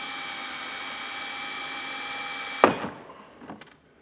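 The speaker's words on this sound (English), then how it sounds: "You just want to drill that head out so that you can pop this out." A power drill whines steadily and up close while drilling out a plastic rivet head on a 2023 Lincoln Aviator during a trailer hitch install, then cuts off with a sharp clunk as the rivet gives way, followed by a few light rattles.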